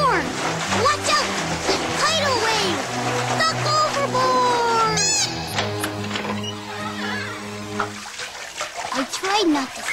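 Cartoon bathtub water splashes and sloshes in bursts amid tonal music and animated vocal sounds, fairly close and busy, ending in a brief calmer stretch.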